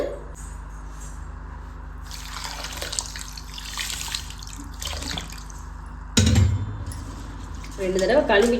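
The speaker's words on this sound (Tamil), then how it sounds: "இப்போ இதை தண்ணியை ஊற்றி ஒரு 2 தடவை கழுவிட்டு" Water runs and splashes into a container, with swishing and dripping as grains are rinsed by hand, ending in a louder slosh and pour.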